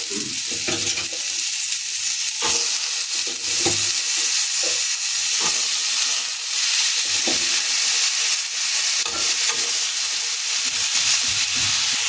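Jhulana stirred and fried in a pan gives a steady, loud sizzle throughout, broken by repeated scraping clinks of a spoon against the pan at an uneven pace.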